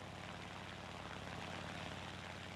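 A propeller engine of an A6M3 fighter in the video game War Thunder drones continuously, a dense, even roar holding steady throughout.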